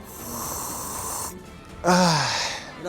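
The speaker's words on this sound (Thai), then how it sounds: "หายใจออก หายใจเข้า" Heavy breathing on a snowy mountain trail at about 3,300 metres: a long harsh exhale, a pause, then a loud rasping inhale, close to the microphone.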